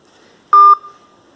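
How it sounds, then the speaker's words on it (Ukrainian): Phone call cutting out: one loud electronic beep tone about a fifth of a second long, clean and close, followed by a fading tail and near silence. "Все, зірвався дзвінок."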